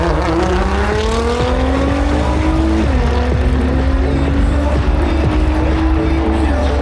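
A race car drives on a circuit, its engine loud and close as it rises through the gears with clear shifts, while a voice talks faintly underneath.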